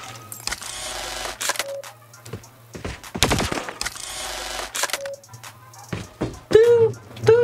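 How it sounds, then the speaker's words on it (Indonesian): A KSP-45 SMG in a video game fires in rapid bursts, loud and close, between reload clicks and ringing metallic dings, with a brief pause mid-sequence. "Dan pas reload ada suara ting nut ting nut."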